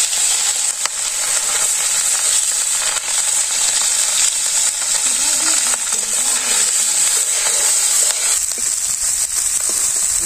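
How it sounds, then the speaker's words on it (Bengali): Small puti fish fry in a pan over a hot stove, producing a constant loud, dense sizzle and crackle with faint stirring scrapes. "মাছটা ভাজা হয়ে গেছে, নামিয়ে দিই"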